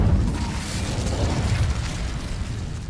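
An Incendio fire spell in Hogwarts Legacy ignites dry vines, giving a loud, sustained crackling whoosh of flame that roars steadily throughout.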